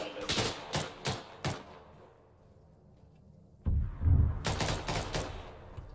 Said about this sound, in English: Sir, we're taking shots.